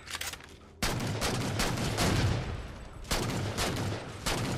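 Gunfire bursts in the Halo video game on the Haven map, loud and dense, with sharp volleys clustered in rapid succession and brief pauses between bursts, no talking over it.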